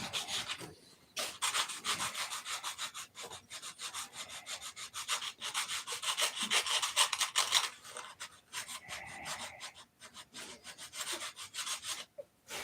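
Steady rasping strokes of sandpaper on a carved wooden cow, repeated in a quick back-and-forth rhythm with brief pauses, close and fairly quiet.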